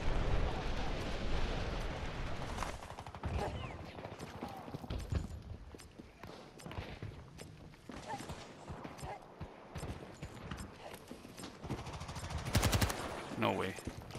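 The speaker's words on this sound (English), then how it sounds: "what am I supposed to do against a sentry gun? It's just auto firing at my head" In an infantry shooter video game, an automatic sentry gun fires repeated rapid bursts mixed with other gunfire and explosions, loud and busy throughout, while a player talks over it.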